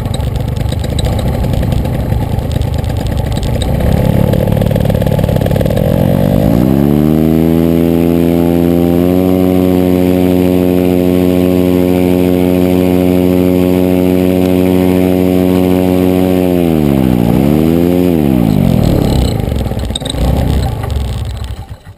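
Paramotor engine held at full throttle, a loud steady droning roar that rises in pitch, holds for several seconds, then drops and briefly revs again before settling, with no talk over it.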